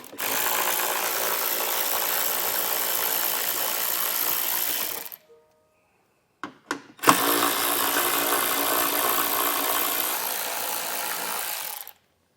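A power tool runs steadily at close range while 10mm screws are removed from a 2023 Tesla Model Y during a trailer hitch install, two long whirring runs split by a pause with brief clicks and a short spin-up.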